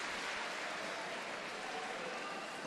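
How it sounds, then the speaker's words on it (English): Crowd at a men's water polo gold medal game between Italy and USA, Napoli 2019 Summer Universiade, gives a sustained round of applause, a broad, even wash of clapping heard from a distance and fairly faint throughout. "as he sits down they get a great round of applause"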